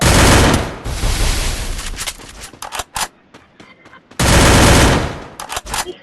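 Gunfire from a shooting video game: loud sustained automatic bursts at the start and again later, with scattered single shots in between and quieter gaps.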